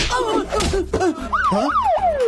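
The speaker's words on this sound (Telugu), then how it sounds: "ఇదేంట్రా సైరన్?" A police siren wails in an action film scene, its pitch sweeping up and down in repeated loud swoops over a dense mix of other film sounds.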